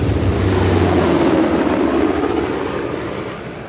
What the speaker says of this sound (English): How the hell did Asov get that helicopter?